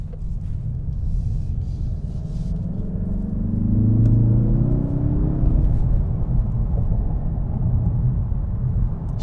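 A 2021 Mazda 3 Turbo sedan's engine rumbles as the car accelerates under full throttle. Deep, muffled drone heard from inside the cabin, with a moderate rise in pitch and loudness partway through before settling into a steady hum.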